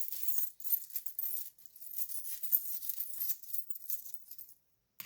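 Small astrology charms are cast onto a table in a rapid, bright jingling clatter of light metallic clicks that lasts about five seconds and then stops.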